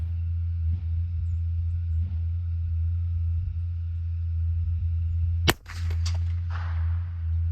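A single sharp gunshot cracks during target practice at 100 yards, loud and close, followed by a brief echoing tail over a steady low outdoor rumble.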